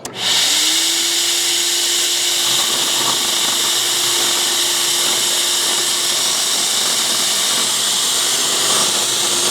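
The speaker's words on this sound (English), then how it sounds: "I want to see if it can drill through this stud." A power drill whirs loudly and steadily at close range, boring into a wooden stud with a constant high motor whine and no pauses.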